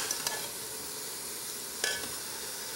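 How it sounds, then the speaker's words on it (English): Pork backbone sizzles steadily in a pot as garlic powder is stirred in. A continuous close frying hiss runs throughout, broken by two sharp scraping clinks of the spoon against the pot, one near the start and one near the end, with no voices. "Stir that garlic powder into there real good."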